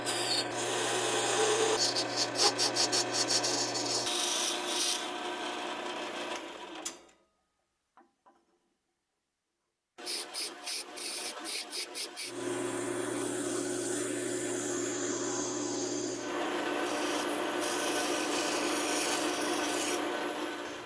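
Metal shoulder being turned down on a lathe: a steady, loud machining whir with scraping texture runs continuously, drops out into near silence for a few seconds midway, then resumes at the same level.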